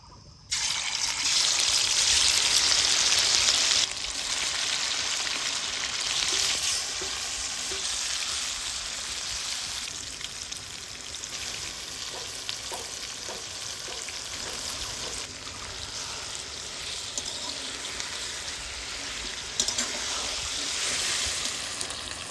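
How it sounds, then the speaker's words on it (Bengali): Chicken pieces fry in hot oil in a kadai (wok) for a village-style chicken dish, giving a steady, close, continuous sizzle and bubbling throughout, with no talking. "চিকেনের পিসগুলা মিনিমাম 15 মিনিট ধরে ভালো করে ভাজি নিয়ে এবার ওঠাই নিব"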